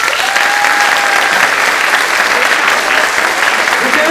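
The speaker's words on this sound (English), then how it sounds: "Could you all give another big hand of a round of applause to all our performers?" A crowd at a childcare group's AGM and children's concert gives the young performers a loud, sustained round of applause, a thick unbroken roar of clapping lasting several seconds.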